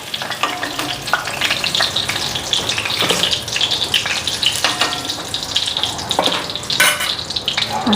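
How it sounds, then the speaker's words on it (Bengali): Duck eggs fry in a pan with a loud, steady sizzle, punctuated by repeated scraping and clinking as a utensil stirs and moves them around, close and without speech. "এদিকে ডিম ভাজা হয়ে গেছে"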